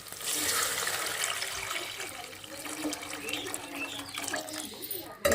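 Water splashing and pouring steadily into a cooking pot of fish curry with tomatoes, close and rushing at first, then tapering off, with soft talking in the background.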